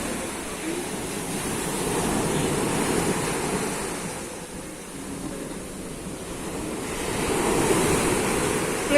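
Rough sea waves crash onto the shore at Sudak, a continuous loud roar of surf and wind that swells and eases, with no voices.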